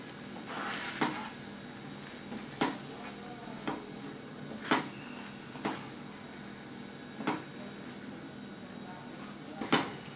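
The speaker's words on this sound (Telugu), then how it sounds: "షుగర్ వేసి బాగా కలుపుకోవాలి." Sugar being stirred into vermicelli kesari in a pan, a soft, steady scraping and sizzle broken by about half a dozen sharp clinks of the spoon against the pan.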